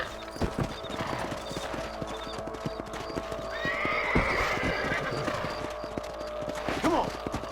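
Horse hooves clip-clop steadily while riding in the Red Dead Redemption video game, with horses whinnying and neighing over the continuous hoofbeats and faint ambient noise.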